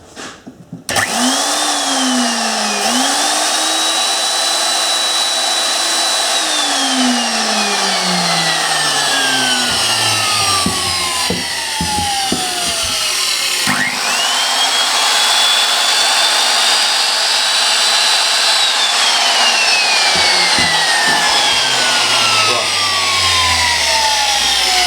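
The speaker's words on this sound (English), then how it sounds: "So that it's only the motor turning, so I don't have to worry about any other rotating parts." A Makita belt sander motor runs with its belt removed, spinning up to a loud whine, winding down, then starting again and coasting down in two clear cycles with no talk.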